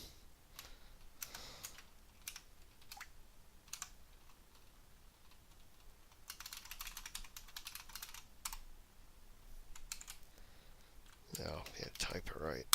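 Keys tapped on a computer keyboard in short irregular bursts of soft clicks, fairly close and faint, with a pause before a louder flurry at the end.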